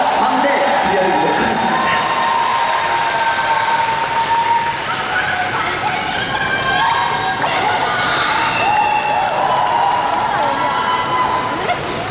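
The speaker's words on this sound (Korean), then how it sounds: "박수 한번 주시고요" An audience at a concert during a national market fair in Cheongju claps and cheers loudly and without a break, a dense crowd wash with whoops and shouts rising over it.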